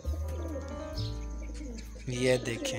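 Black pigeons fighting among village pet birds, with soft cooing calls and a few brief chirps and flutters close by, while someone speaks over them.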